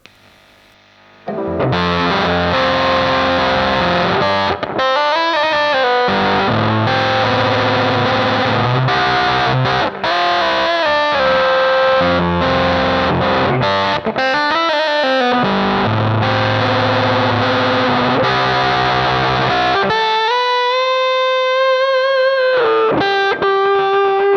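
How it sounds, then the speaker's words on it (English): Electric guitar through a JOYO JF-12 Voodoo Octave fuzz and a TONEX Steel Singer set at zero gain, playing loud, thick, saturated octave-fuzz riffs continuously before ending on a ringing, wavering high sustained note. "let's hear how it sounds with a Steel Singer."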